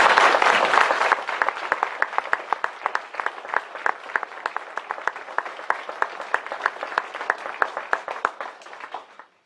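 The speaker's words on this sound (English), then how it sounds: "And let's give them a big round of applause." Audience applause at a gubernatorial debate held in Hyannis, Nebraska: a dense burst of clapping at first, thinning into distinct, steady individual claps that fade out over several seconds.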